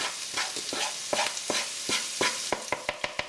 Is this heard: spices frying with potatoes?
yes